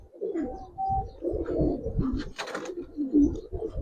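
Giribaz and colouring pigeons coo in a loft in Narayanganj, several birds overlapping in near, steady throaty rolls with a brief rustle of wings partway through.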